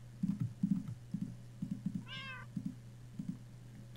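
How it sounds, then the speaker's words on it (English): A cat meows in the Minecraft game, a short high rising cry heard once over a steady low hum and soft repeated thumping game sounds, with no talking. "Shut up, cat."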